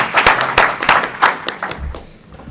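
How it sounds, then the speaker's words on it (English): Audience applause for Chairman Bobby Scott at a Progressive Democrats of America roundtable: brisk clapping with sharp individual claps that thins out and fades toward the end. "Give him another round of applause."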